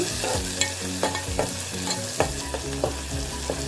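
Onion frying in hot oil with asafoetida in a pan, stirred with a spatula, while preparing a traditional Konkan dish with black peas. Steady loud sizzle with regular scraping strokes, no voices.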